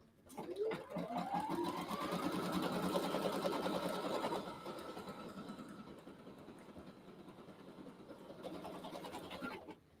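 Domestic embroidery sewing machine stitching cork fabric for a striped handbag, a fast steady mechanical whir that rises in pitch as it speeds up, then runs on evenly before slowing, fairly quiet with a faint voice underneath.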